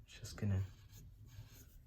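A pencil drawing of King Ghidorah from Godzilla King of the Monsters is being erased, with brief close scratchy rubbing that swells for about half a second and then fades to quiet paper noise.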